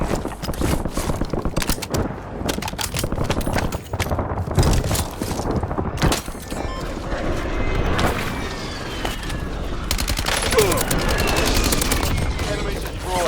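Sustained Maddox rifle fire in a Warzone match, fast repeated shots in long bursts with game effects and in-game voice callouts mixed underneath, loud and continuous.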